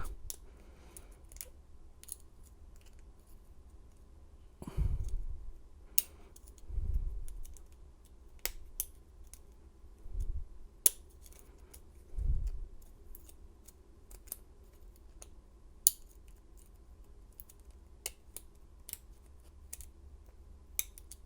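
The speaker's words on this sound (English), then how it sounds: "So let's see if we can pick this guy open and gut it" An LSDA padlock being picked: faint metallic clicks and small ticks scattered through a quiet stretch, with several soft low thumps of handling spaced a couple of seconds apart.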